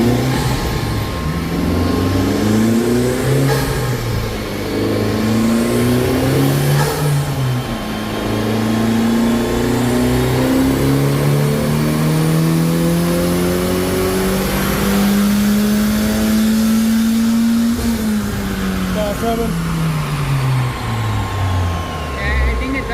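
A Honda Civic Type R FL5 engine on a dyno revs hard and continuously, its loud, close drone climbing and falling in pitch through several sweeps before one long rise and drop-off.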